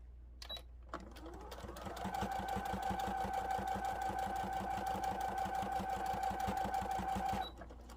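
A sewing machine stitches a fleece bumblebee, a fast steady mechanical whir and rapid needle clatter that starts up, runs evenly for several seconds close by, then stops.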